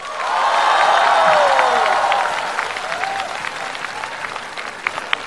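Loud studio audience applause with cheering and whoops at a Chinese televised comedy challenge show, swelling early then settling into steady clapping, with a voice briefly rising over it.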